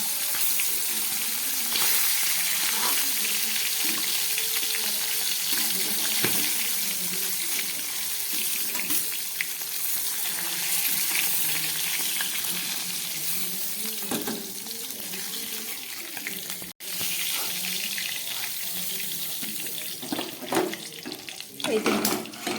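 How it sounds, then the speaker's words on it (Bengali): Steady broadband hiss of rita and tengra fish frying in hot oil, continuous and fairly close, with faint clinks and a brief dip near the end. "মাছগুলো ভাজা হয়ে গেছে এবার আমি তুলে ফেলছি"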